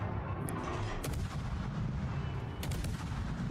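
Heavy naval gunfire in World of Warships, with booming artillery reports in a couple of bursts over a steady low rumble of battle noise.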